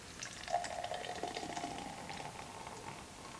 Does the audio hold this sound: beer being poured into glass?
yes